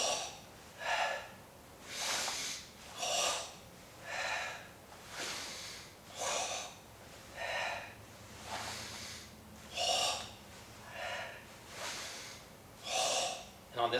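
Forceful Sanchin kata breathing: about a dozen sharp, hissing exhalations in a regular rhythm roughly one per second, close and distinct, separated by quieter pauses.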